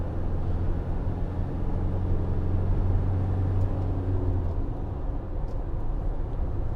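Inside a 2019 Citroen Relay 2.2 BlueHDi van on the move, a steady low engine and road rumble carries through a gear change, close and continuous with no talking.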